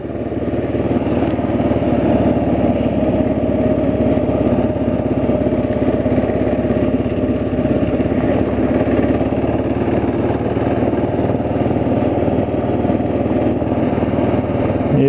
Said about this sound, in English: you can see we're pumping. We're pumping from here and going over there with it.